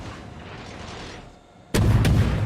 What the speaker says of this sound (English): we're going to start shooting toward the superstructure, see if we can't get another fire going on here